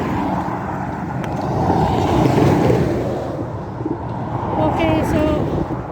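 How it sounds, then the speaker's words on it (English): Lorries pass along a roadside stretch near the Averon River by Dalmore Distillery, a loud broadband roar swelling to a peak midway and then easing, with wind buffeting the microphone. "I hate walking along this bit, and there's lorries passing"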